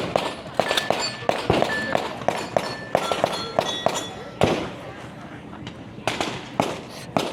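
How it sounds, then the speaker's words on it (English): Gunshots ringing off steel targets during a women's tactical shooting competition stage, a rapid string of sharp cracks and metallic pings with uneven gaps, heard at moderate distance under a commentator's voice. "Now they will shoot through the middle of the barricade."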